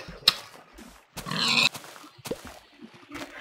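Minecraft pig grunts and oinks come in a few short bursts, one louder squeal-like burst in the middle, alongside sharp clicks and thumps of game action; near, moderately quiet, with no speech.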